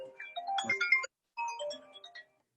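A phone rings with a short melodic ringtone during a health-center discussion, playing two clear phrases separated by a brief silence.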